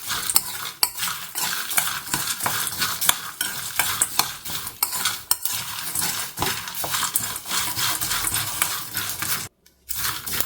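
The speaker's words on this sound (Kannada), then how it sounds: "ಸ್ಟವ್ ಆಫ್ ಮಾಡ್ಕೊಂಡ್ಮೇಲೆ ಬಾಣಲಿ ಬಿಸಿ ಇರುತ್ತಲ್ವ ಅದರಲ್ಲೇ ಫ್ರೈ ಮಾಡಿಕೊಂಡ್ರೆ ಸಾಕು" Curry leaves fry in a hot pan with the stove switched off, giving a steady sizzle as a metal spoon stirs and scrapes against the pan in frequent clattering strokes, with a brief silence near the end.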